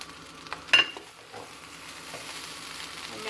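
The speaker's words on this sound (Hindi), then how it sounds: "इसको मिक्स कर दूँगी और साथ ही ये जो हरी प्याज थी ये भी डाल दूँगी" Egg fried rice with green onions is stirred in a hot pan, steady low sizzle with a sharp scrape of the spatula near the start and softer stirring after, no talk.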